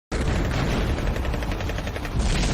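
Sustained rapid gunfire defending the Bastion against swarming bugs in the video game Bastion Forge, loud and dense bursts that run without pause from start to end.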